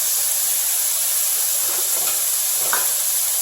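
Wet onions hitting a hot pan set off a loud, steady hissing sizzle with a steamy rush that holds evenly throughout, with faint stirring touches near the end and no talking.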